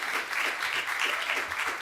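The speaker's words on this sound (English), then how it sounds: "Please give Lauren a huge round of applause." An audience at an education event applauds, a dense, even wash of many hands clapping at moderate distance, continuous throughout.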